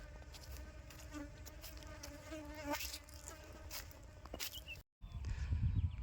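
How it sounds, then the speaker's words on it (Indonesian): Dense, continuous buzzing of many aggressive Apis cerana bees swarming close by during a colony transfer, steady and loud, with a brief dropout near the end followed by rumbling handling noise. "Untuk lebah sangat agresif sekali."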